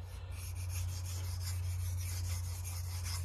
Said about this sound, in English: We will do a couple stropping strokes on stropping passes or burr removal passes on an ultra fine ceramic